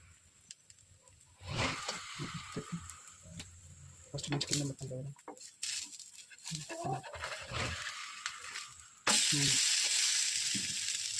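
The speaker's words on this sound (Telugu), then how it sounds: "అటు సైడ్ మంచిగా ఫ్రై అయిపోతుంది" Food fries in a pan with a loud, steady sizzle that grows stronger toward the end, while a person talks over it and the food is pressed down.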